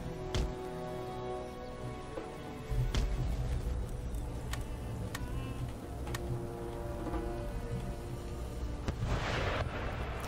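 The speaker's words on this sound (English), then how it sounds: "The artillery is engaging the Gurkhas" Cannon fire from Empire: Total War thuds and cracks over a low battle rumble: several sharp distant booms spaced out over the stretch, then a louder rolling blast toward the end, with no voices.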